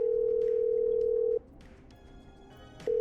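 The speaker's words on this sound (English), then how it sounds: "I'm dialing." Telephone dialing in the video game Killer Frequency: a loud, steady dial tone cuts off into quieter line noise with faint beeps, then the tone resumes.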